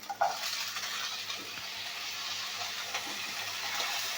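Cut drumstick, radish, eggplant and potato hit a hot pan for a small-fish vegetable curry, giving a steady close, moderately loud sizzle with a brief splash of contact near the start.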